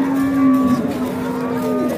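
A cow moos in one long, steady, drawn-out call, loud and close, with no talking.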